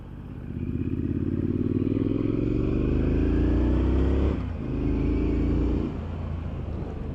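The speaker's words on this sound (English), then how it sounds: "Lovely sound from that engine." A 2021 Triumph Street Scrambler motorcycle engine pulls hard up close, its rising growl climbing through the revs. It dips briefly at a gear change, pulls again, then drops back to a lower drone.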